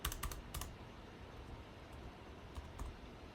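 Quick clusters of key clicks from a computer keyboard as a command is typed, a burst of taps near the start and a few more toward the end, close and fairly quiet with no talking.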